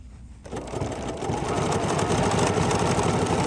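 A sewing machine stitches a fabric tray, its needle running as a fast, steady mechanical hum that starts abruptly after a brief quiet moment and continues at close range without speech.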